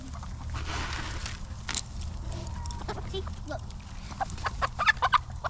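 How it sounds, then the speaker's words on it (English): Backyard chickens clucking and calling close by while one is being caught and fed, with scattered short clucks over a steady low rumble of outdoor background noise. "I'm going to try to catch a chicken."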